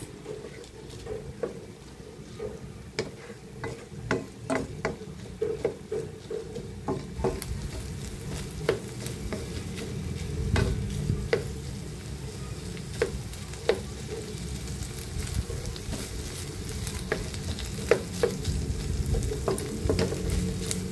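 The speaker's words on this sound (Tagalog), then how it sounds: "Saute lang natin yan sa dairy free." Corn and carrots sauté in dairy-free butter in a pan, giving a steady crackling sizzle throughout, with frequent sharp clicks and scrapes of a utensil stirring the vegetables close up.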